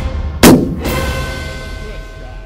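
Single rifle shot fired at an antelope on a Wyoming hunt, a sharp, loud crack close by followed by a rolling echo that fades across open ground.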